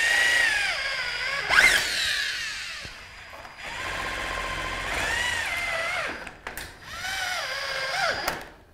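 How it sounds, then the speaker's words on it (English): Power drill driving Siniat high thread screws into timber within a metal stud wall doorway, three sustained whining runs with rising pitch, each separated by brief pauses and clicks, close and loud with no talking. "I now need to secure the timber in place using a Siniat high thread screw at"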